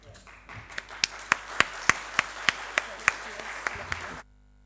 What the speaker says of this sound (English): Let's give a big round of applause to Divyanshu, who single-handedly made this